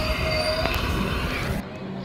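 Subway train wheels squeal thinly over a loud rumbling roll in a Roblox game, with the noise dropping off abruptly near the end.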